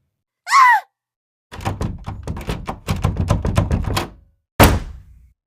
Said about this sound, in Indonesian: Markus langsung menghantam pintu yang terkunci dari dalam. Suara benturannya menggema keras